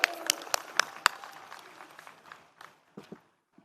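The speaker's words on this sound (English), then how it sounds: "Ladies and gentlemen, a huge round of applause for" Audience at the Karnavati University convocation ceremony in Ahmedabad applauds with sharp, dense clapping that starts loud and fades out over a few seconds, with a few scattered late claps.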